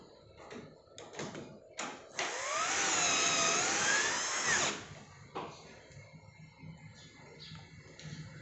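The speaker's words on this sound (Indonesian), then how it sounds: "ini saya gunain mata bor yang 1 mm terlebih dahulu, baru langsung dimasukkan si skrupnya" Electric drill boring pilot holes with a 1 mm bit for door hinge screws on a closet door, a rising whine held for about two seconds between quieter handling knocks.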